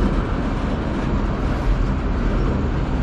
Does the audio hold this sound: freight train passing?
yes